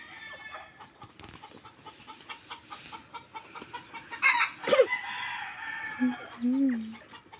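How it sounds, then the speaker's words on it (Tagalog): A backyard chicken gives short clucks and throaty calls near the mic, with a few louder squawks toward the end over soft rustling background noise. "Tawag mo yung chicken."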